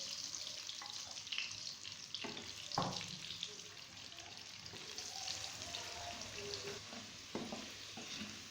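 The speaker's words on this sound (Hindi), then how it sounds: "एक कढ़ाई में ऑयल डाल के मैंने गरम होने के लिए रख दिया था, जो कि गरम हो गया है। अब हम इसमें आलू को डालेंगे और इनको तल लेंगे।" Potato pieces frying in hot oil in a kadhai, a soft continuous sizzle with crackles and occasional stirring scrapes and clinks, fairly quiet and close, no talking.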